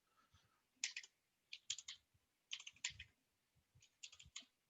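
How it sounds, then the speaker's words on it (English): A cat walking across a computer keyboard, setting off several short bursts of clustered key clicks with pauses between them, close and fairly quiet, with no voices. "my cat lays on my keyboard sometimes and screws everything up"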